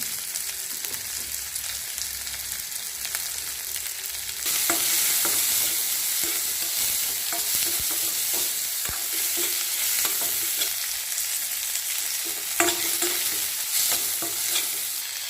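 Onion, fennel seeds and cloves sizzle steadily in hot oil in a pan, with scraping stirs throughout that grow louder and denser after a few seconds. Nobody speaks.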